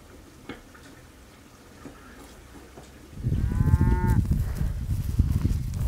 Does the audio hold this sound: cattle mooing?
yes